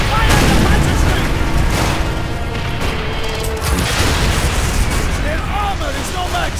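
Panzerschreck rocket launchers firing at tanks in Call of Duty: World at War, with heavy booming blasts and battle rumble sustained throughout, under shouted voices.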